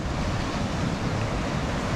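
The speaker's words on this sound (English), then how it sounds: "you can get waves that suddenly are a bigger one that's not the norm" Ocean waves crashing at the sea cliffs of Woolshed Cave, Talia Caves, on South Australia's Eyre Peninsula, a continuous broad roar of surf with some wind, close and fairly loud.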